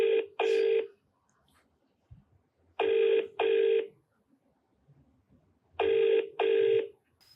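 A telephone call ringing through: three pairs of loud electronic double rings, evenly spaced with short quiet gaps between each pair.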